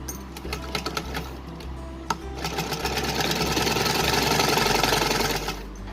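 Sewing machine stitching the side seam of a small polka dot doll dress for Radha Rani, a close rapid needle chatter that starts in bursts and settles into a steady whirring run.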